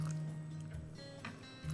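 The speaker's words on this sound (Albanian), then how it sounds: "Shtoj dhe pakës ujë." Water is poured over chopped cucumber, celery and green apple for a detox drink, a close, continuous splashing and dribbling with a low steady hum underneath and no talk.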